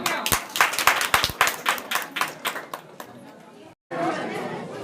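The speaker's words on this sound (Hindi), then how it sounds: "जोरदार तालियां" Applause bursts out at an outdoor government benefit-distribution event in Jharkhand, with uneven clapping over crowd chatter; the sound drops out briefly near the end, then crowd noise resumes.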